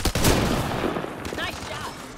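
Rapid bursts of gunfire in the sci-fi shooter Mass Effect Andromeda, a loud volley up front trailing into scattered shots and energy zips, with game effects layered underneath.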